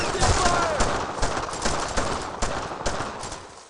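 Rapid bursts of gunfire in the World War II shooter game Brothers in Arms: Road to Hill 30, repeated cracks layered over dense battlefield noise with shouted voices.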